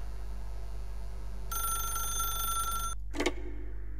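A telephone rings in the video game The Stanley Parable, one shrill electronic ring lasting over a second, then a short click as it stops, over a constant low hum.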